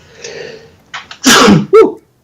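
A single loud sneeze, preceded by a brief sharp inhale, then a short vocal follow-through right after.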